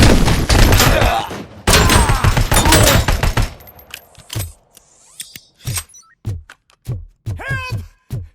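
Heavy gunfire in the RoboCop: Rogue City video game: dense bursts of automatic fire with loud bangs for the first few seconds, then separate sharp single shots and thuds spaced out, ringing close.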